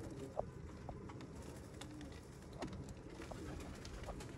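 Sialkoti rooftop pigeons coo faintly in a few soft, low calls spaced across a steady quiet background, with no talking.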